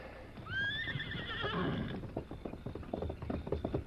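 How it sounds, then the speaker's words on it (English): A horse gives a loud, rising whinny up close, followed by a run of hoof clip-clops that continue in an uneven rhythm as the call fades. "That other horse is making too much noise."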